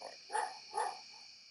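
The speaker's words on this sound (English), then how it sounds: "you can hear Mella barking" A recorded dog bark played back from software, two short faint barks about half a second apart over a quiet electronic hum.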